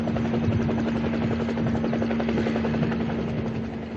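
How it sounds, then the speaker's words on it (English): A military helicopter roars steadily and loudly close overhead during the final American evacuation from Vietnam in 1975, with a continuous rotor thrum and engine whine and no break. "And so I got on the chopper and came out."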